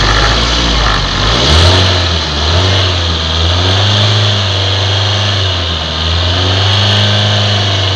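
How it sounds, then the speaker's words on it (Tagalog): A Mazda 3 engine with an overheating problem revs up and down under the accelerator, a loud steady motor drone rising and falling in pitch over several seconds with no talk. "pag nire-rev natin yung accelerator, pag nire-rev natin"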